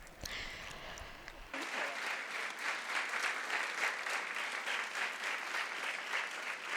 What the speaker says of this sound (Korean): 성모님께 박수를 쳐드립시다.